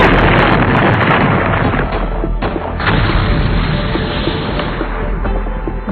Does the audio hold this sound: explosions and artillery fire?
yes